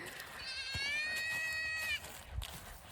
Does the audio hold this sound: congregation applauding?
no